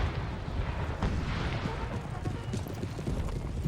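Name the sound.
artillery firing in video game Napoleon Total War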